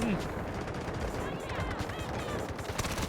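Rapid gunfire in the Delta Force shooter game, a steady dense rattle of shots running throughout, mixed with a faint voice.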